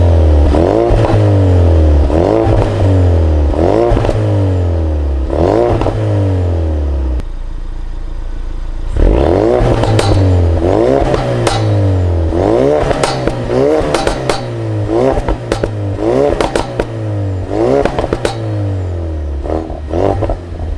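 A Ford Focus RS engine and exhaust, heard from behind the car, revving hard over and over, each rise to a high pitch followed by a quick drop, loud and close, with one short lull partway through.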